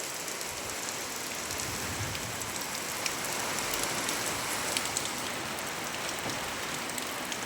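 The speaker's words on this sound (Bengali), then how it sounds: "প্রচুর বৃষ্টি হচ্ছে" Heavy rain pours down steadily and close, a dense, even hiss of drops with no pauses and no voices.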